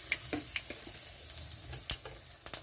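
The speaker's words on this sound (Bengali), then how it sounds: "তেলটা গরম হয়ে গেছে, তো এখানে আমি দিয়ে দিচ্ছি শুকনো লঙ্কা" Dried red chillies dropped into hot mustard oil in a kadai give a faint, close sizzle with scattered light crackles and ticking pops over a low, steady frying hiss.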